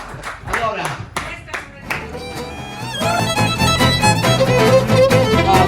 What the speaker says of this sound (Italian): un applauso mi dice